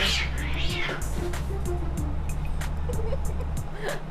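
Several cats meowing at an animal adoption center, a run of short repeated meows and a drawn-out yowl over a steady background hum, with a voice talking over them.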